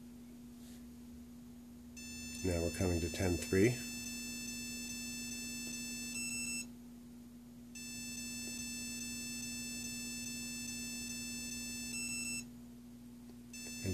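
Electronic programming tones from a BLHeli ESC driving a 2300kv brushless motor: a long steady high tone plays, stops, then starts again, with a short spoken phrase near the start over a constant low hum.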